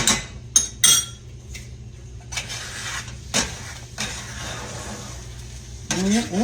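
A spatula stirs stewed apples that stick to the bottom of the pan, giving several sharp scrapes and knocks against the metal with quieter sticky stirring between them, close by.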